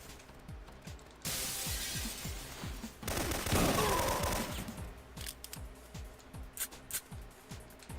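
Rapid gunfire crackles in the PS1 game Syphon Filter, a dense run of repeated shots with bursts of shattering impacts, moderately loud and with no talk over it.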